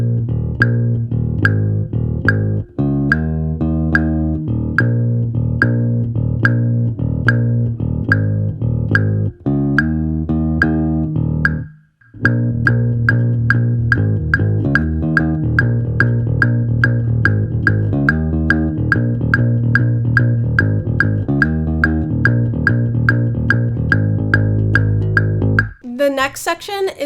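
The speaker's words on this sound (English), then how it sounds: "Let's do that together with the metronome right now at half speed and then full speed." Bass guitar plays a song as a lesson, driving repeated eighth-note riffs with sharp metronome clicks on top, one brief pause partway through, steady and loud with no talk.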